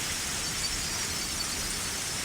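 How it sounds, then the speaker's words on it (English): A torrential rain downpour hisses as a steady, even wash of noise with no pauses or distinct drops, constant and fairly loud throughout. "Even in this torrential downpour"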